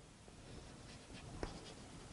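Marker or chalk writing on a board during an engineering mechanics lecture, a faint continuous scratchy stroke sound with a brief sharper tap near the middle, heard alone at low level.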